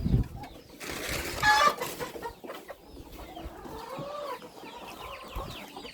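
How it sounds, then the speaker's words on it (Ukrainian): Chicks and hens being herded on a Ukrainian farmyard give soft, scattered clucks and chirps at close range, irregular and fairly faint, with some rustling among them. "давайте виженемо курчат"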